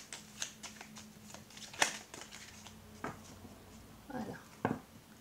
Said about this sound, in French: On va faire la coupe, ça ne tombe pas